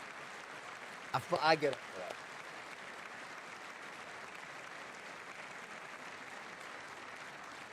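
Steady applause from lawmakers at a State of the Union address fills the whole stretch at an even level, with a brief spoken phrase near the start.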